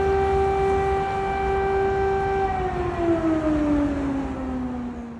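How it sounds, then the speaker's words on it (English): An air raid siren in Ukraine holds a long steady wail, then slowly slides downward in pitch, loud and continuous over a rumbling background. "The wail of air raid sirens became part of the fabric of life for more than 43 million people."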